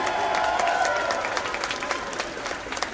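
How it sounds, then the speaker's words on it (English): A crowd claps warmly at an outdoor rally, loud and steady at first and then thinning slightly toward the end, with some scattered cheering mixed in. "Give him a big round of applause."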